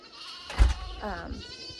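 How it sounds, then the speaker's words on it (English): Baby goats bleat nearby in a drought-dry summer garden, giving one loud wavering cry followed by a softer bleat, with a little background noise. "We're gonna have to deal with the baby goats yelling at us the whole time and probably the dogs."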